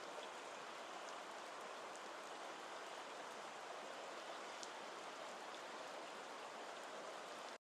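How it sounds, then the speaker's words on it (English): Steady rain falls over a city, a soft, continuous hiss of drops on hard surfaces, even and faint throughout before cutting off abruptly at the end. "And then we have this other city rain recording here"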